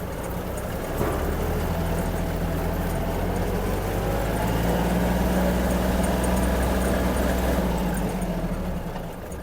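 A Kubota GL-21 mini tractor engine pulls as it gathers speed, a continuous moderately loud rumble that swells slightly through the middle and eases near the end, with no voices.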